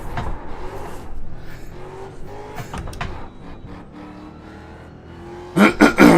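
A race car engine in the iRacing sim revs in short, loud bursts near the end, after a low, steady idle-like drone with quieter engine tones throughout.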